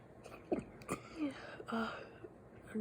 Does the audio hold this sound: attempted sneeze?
yes